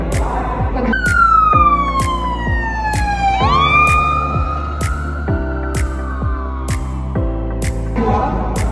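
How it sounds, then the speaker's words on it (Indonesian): A loud ambulance siren wails continuously, its pitch dropping sharply partway through as it passes close by, then holding lower as it moves away over steady road noise. "ketika ambulans mendekati kita, suara sirinenya itu terdengar lebih tinggi"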